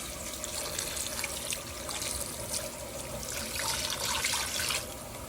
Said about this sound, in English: put about 4 cups of water in there